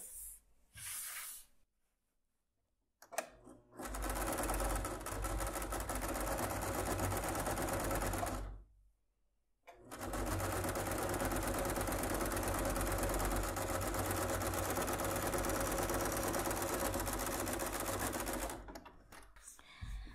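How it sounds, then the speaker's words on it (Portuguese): Sewing machine stitching a fabric wallet pocket, running loud and steady in long bursts separated by short pauses, with brief moments of quiet between the stitching runs. "a gente vai passar uma costura aqui embaixo para prender essa, esse bolso de, da carteira."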